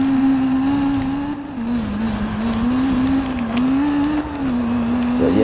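Jaguar C-X75 supercar engine in the racing game Need for Speed Rivals, a loud steady droning tone that rises and falls slightly with throttle throughout, with faint tire noise in the mix.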